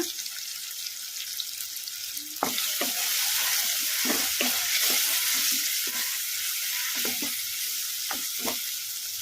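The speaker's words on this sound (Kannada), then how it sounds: "ಟೊಮಾಟೊ ಮೆತ್ತಗಾಗೋವರೆಗೂ ನಾವು ಕಲಿಸ್ಕೊಂತ ಫ್ರೈ ಮಾಡ್ಕೊಂಡ್ಬಿಡೋಣ" Tomatoes fry with a steady sizzle in a pan for palak sambar, while a spoon scrapes and stirs in repeated short knocks throughout, close and continuous.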